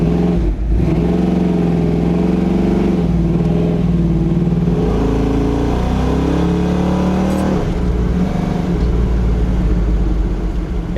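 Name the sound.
1997 Chevy S10 hot rod with small block Chevy engine revving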